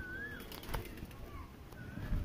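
Soft cooing of a male Madrasi pigeon drifts over low rustling and a brief flutter of wings, with faint whistling calls in the background.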